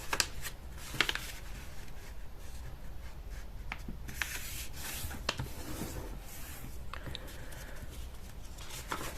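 Paper being folded and creased for an origami boat envelope, with crisp rustles, sliding rubs and sharp crinkles close by, continuous and unaccompanied by speech.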